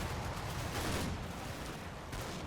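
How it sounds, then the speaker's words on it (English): Machine gun and rifle fire in the wargame Combat Mission, a steady rattle of overlapping shots and distant bursts that carries on without a break and has no talk over it. "Well, they started to put rifle fire out on the old"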